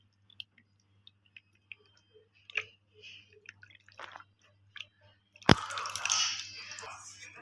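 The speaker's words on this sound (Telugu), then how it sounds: "చింతపండు నీళ్ళు పోద్దాం చేపల్లోకి" Tamarind water is poured over korameenu fish pieces for a curry, starting as scattered drips and small squishes, then a sudden splash and a brief pouring gush near the end.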